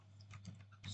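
Quiet computer keyboard typing a command, a short run of soft, rapid key clicks over a steady low hum, close and faint, with no voices.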